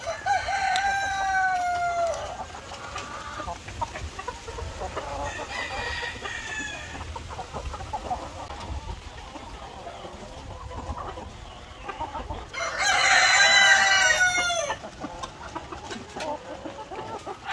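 Chickens cluck and cackle nearby while a rooster crows loudly partway through, over a steady farmyard background.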